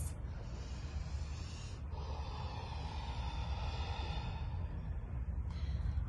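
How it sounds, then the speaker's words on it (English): Audible breathing during a yoga practice, close and clear, with slow, drawn-out inhales and exhales through the nose and a soft sigh-like release. "Our breath is audible, we can hear it."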